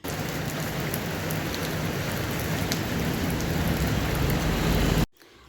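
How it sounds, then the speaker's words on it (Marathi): Heavy monsoon rain pours outside a house in the Konkan countryside, a loud, steady, dense hiss of rain that continues unbroken and then cuts off abruptly near the end. "बाहेर धो धो पाऊस पडतो आहे"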